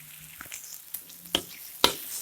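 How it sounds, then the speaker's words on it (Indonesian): About two tablespoons of sweet soy sauce sautéing in a pan for Indonesian fried rice, a soft low sizzle with a few sharp utensil clicks against the pan, close and quiet. "Kecap saya tumiskan kira-kira 2 sendok makan kecap manis."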